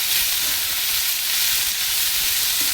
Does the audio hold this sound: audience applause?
no